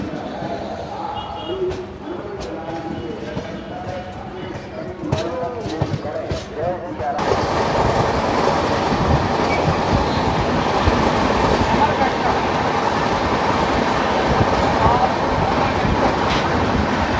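The Amarkantak Express passes on Indian railway tracks: after a quieter stretch with indistinct voices, a loud, dense roar of wheels and carriages swells in and rumbles continuously with rattling clatter until the end.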